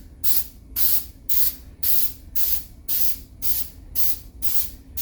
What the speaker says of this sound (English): I'm just going to spray this on like any other spray paint, back and forth, overlap,